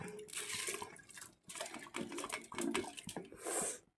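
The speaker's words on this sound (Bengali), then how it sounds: "এবার আমি চাল ডালটা ঢেলে দেব" Washed rice and lentils poured into a pot for khichuri, a faint, close-up run of grainy rattling and patters, with a short pause partway through before the pouring resumes.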